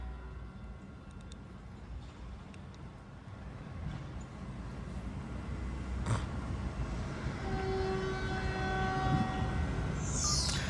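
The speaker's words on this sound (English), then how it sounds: "here's Caltrain 117 departing Menlo Park a minute late at 9:29 a.m. Pacific Daylight Time" A Caltrain commuter train departs Menlo Park station with a low rumble that builds, brief horn-like tones and bell pings, a whining tone rising toward the end, and a fairly loud, nearby sound.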